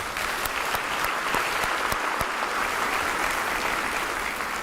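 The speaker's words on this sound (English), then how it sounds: "Let's give them a round of applause for that." Steady applause from a crowd at a school district event, dense clapping sustained throughout at an even, fairly loud level with a few sharper individual claps standing out.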